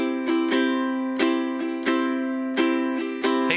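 Bright ukulele chords strummed in a lilting, swung rhythm, with steady down-up strokes ringing clearly and closely, no voices.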